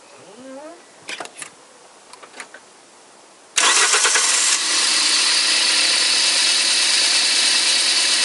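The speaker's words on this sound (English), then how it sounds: "now my assistant starts this engine" After a few quiet clicks, an engine cranks and roars to life loudly, then settles into a steady idle.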